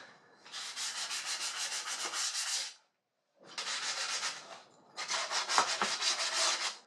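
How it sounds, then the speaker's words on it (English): Steady, close sanding strokes with 400-grit sandpaper on motorcycle parts rasp rhythmically in two long bursts separated by a short pause, with no voices. "Now that I'm done sanding all these with 400 grit"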